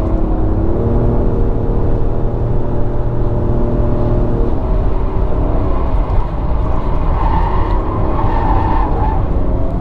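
A Nissan Qashqai e-Power car accelerates, with a loud, steady engine and road drone whose pitch climbs gradually as speed builds.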